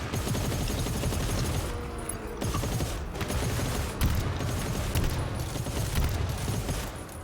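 Sustained automatic gunfire in the video game GTFO, dense rapid bursts with brief gaps, loud and close, no talking.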